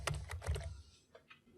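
Keys clatter on a computer keyboard while typing into an Excel spreadsheet: a quick run of four or five soft clicks, then two fainter taps, heard alone at low level.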